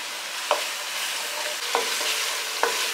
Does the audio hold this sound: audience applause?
no